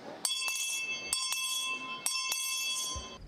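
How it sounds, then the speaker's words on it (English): A bell rings out in four clear, resonant strikes at a steady pace, each tone ringing on and overlapping the next. "just like the bell on top of Sherman Hall, it shall keep ringing"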